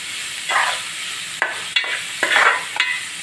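Onions frying in a pan for a prawn and drumstick curry, cooked until brown: a soft sizzle broken by several sharp scrapes and clacks of a spatula stirring the pan, close and without talk.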